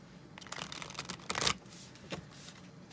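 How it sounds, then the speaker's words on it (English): Tarot cards being shuffled by hand at a reading, a quiet run of soft riffling and flicking bursts with a louder flurry near the middle, no voices. "Shuffle again."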